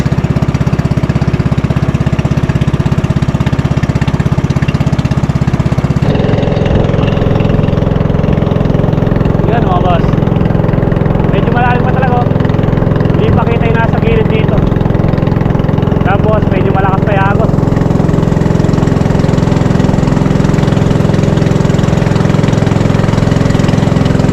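The outboard engine of a small fishing boat strains against a strong river current. It drones loud and close, steady throughout, with someone talking over the constant engine noise.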